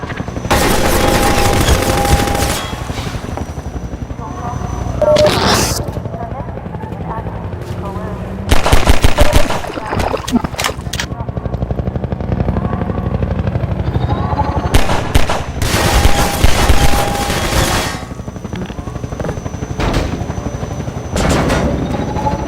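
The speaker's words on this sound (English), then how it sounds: "designed as a dash from cover to cover under helicopter fire" Helicopter gunfire in the video game Half-Life 2, where the player dashes from cover to cover: loud bursts of machine-gun fire and booms that break out repeatedly over a continuous rotor drone and battle noise.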